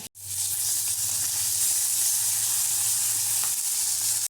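Green banana and potato sautéing in a pan give a steady, close, broadband sizzle that holds evenly from start to finish, with a low hum running beneath it and no talking.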